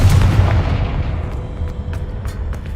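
A Confringo blasting spell explodes in the Hogwarts Legacy video game: one loud, close boom that rumbles and fades over a couple of seconds, with a few faint sharp crackles trailing after.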